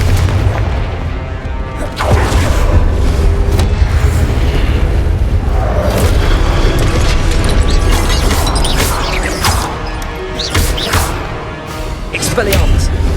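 Confringo blasting spell explosions in Hogwarts Legacy, a loud, dense run of booms and crashing blasts over steady battle noise, with sharp impacts recurring throughout.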